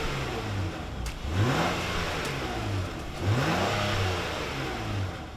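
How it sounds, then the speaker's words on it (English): A 2022 Acura MDX with a naturally aspirated V6 and 10-speed gearbox accelerates, its engine note climbing in two rising sweeps, each one falling at an upshift, with a moderately loud, smooth tone. "The engine doesn't sound half bad either."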